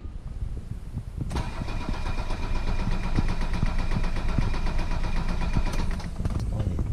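A car engine cranks over and over with a steady rapid chugging rhythm, loud and close, continuing without catching.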